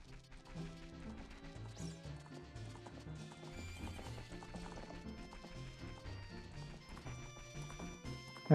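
A horse in a Zelda video game whinnies and clip-clops over a constant backdrop of game music, the neighs and hoof beats staying steady across the stretch and rising to a louder burst right at the end.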